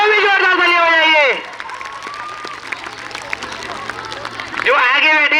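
A seated audience at a yoga workshop in Abdullah Hall, A.M.U., claps in a brief burst of scattered applause between stretches of loud amplified speech that open and close the moment.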